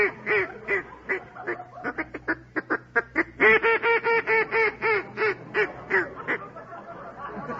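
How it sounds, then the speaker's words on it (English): A hand-blown duck call sounds in a studio on a quiz show, played as a loud, rapid string of quacks: scattered single blasts first, then a tight rhythmic run of clipped, nasal calls, with no talking. "Rap out a duck call."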